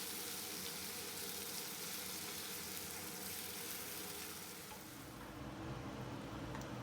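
Marinated chicken frying with onions in a pot: a steady, dense sizzle holds at an even level throughout, close and continuous with no talking.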